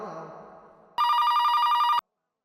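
A telephone at a police outpost rings loudly in one steady electronic burst lasting about a second, cutting in sharply after fading voices and stopping abruptly into silence.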